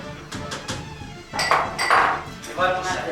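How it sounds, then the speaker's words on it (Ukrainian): Millet and rice being stirred in a pot with a spoon, then covered by a lid, giving a few clinks and scraping knocks against the metal over kitchen background noise. "Висипаємо, промішуємо і накриваємо кришкою."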